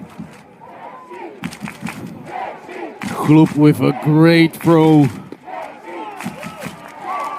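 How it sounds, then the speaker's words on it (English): Crowd cheering and roaring at a Great Britain versus Czechia baseball game after a strong defensive throw, swelling to a loud peak then easing, with an excited commentator talking over it. "the crowd is going nuts"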